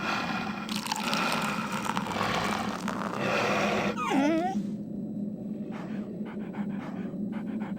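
A dog pants in Metal Gear Solid: The Twin Snakes, quick breathy rhythm over a rumbling game ambience, then a sharp whimpering yelp and softer breaths.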